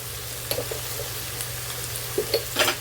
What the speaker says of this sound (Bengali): পেঁয়াজটা হালকা হালকা ব্রাউন করে প্রথমে আমি ভেজে নেব